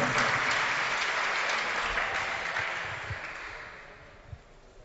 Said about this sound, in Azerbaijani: Azərfonlar dünyası, alqışlarınız.